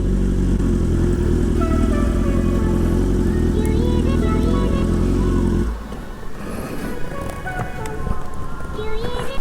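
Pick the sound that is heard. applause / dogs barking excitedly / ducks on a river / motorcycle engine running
motorcycle engine running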